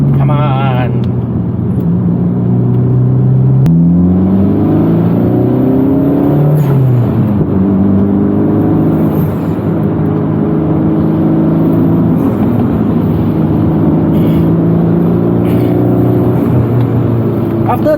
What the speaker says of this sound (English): The acceleration of this car reminds me of JD's Satria.